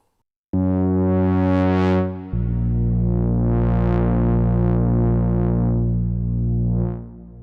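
Synthesizer lead with reverb, a loud bright sustained note that steps to a lower pitch and swells with filter sweeps, then fades into a reverb tail at the end.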